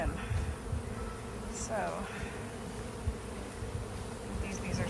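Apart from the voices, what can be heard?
honey bees buzzing around hive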